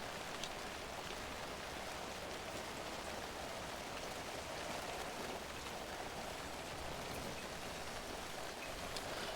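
Steady rain falling throughout the video game Alan Wake 2, a dense continuous hiss of drops on surfaces with no break, moderately quiet and unaccompanied by talk.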